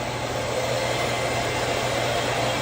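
A Shark Vertex vacuum cleaner runs at a steady close drone, its broadband whine constant and loud throughout, with no voices.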